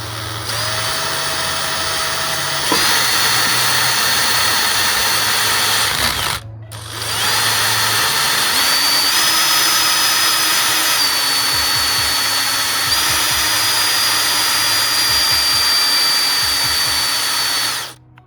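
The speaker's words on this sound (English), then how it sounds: "and just drill into the seal." A power drill whines at a steady pitch, stops briefly, then spins up again and runs continuously, loud and close, shifting speed as it bites into a rear output prop shaft seal on a Honda TRX420/500 ATV.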